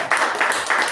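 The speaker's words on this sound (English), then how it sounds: "A huge round of applause to Toastmaster" Audience at a Toastmasters meeting claps in a brief burst of applause, close and fairly loud, lasting under a second.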